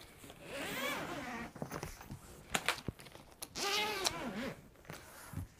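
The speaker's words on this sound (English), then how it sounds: "a hard plastic case with a zipper" Zipper running along a hard plastic case for an XO 1650D double French horn, with two longer drawn pulls and a few scattered clicks and handling knocks between them, close and fairly quiet.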